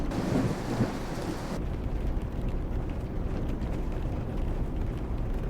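A low rumble of thunder rolls through a dense wash of heavy rain in a video game, the downpour steady and close throughout.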